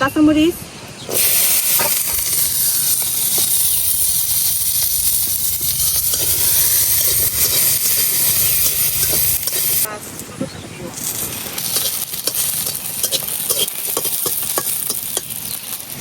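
Chepa dried fish frying in a kadai gives a loud, steady hissing sizzle that drops out briefly at the start and eases near the middle, with faint stirring and occasional voices underneath.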